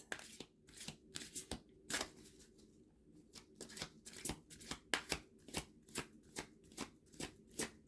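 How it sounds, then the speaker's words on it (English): Goddess Guidance oracle cards are shuffled by hand in quick repeated bursts of crisp riffling and flicking, close and fairly quiet, with short pauses between strokes. "let's take an oracle card from the Goddess Guidance"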